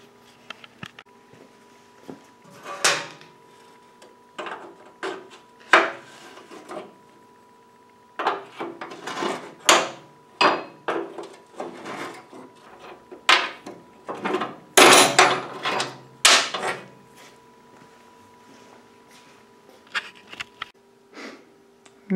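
Nut and bolt being removed from the hood height bar of a Frazer rototiller, heard as a series of sharp metallic clicks and knocks in irregular bursts, fairly close and alone.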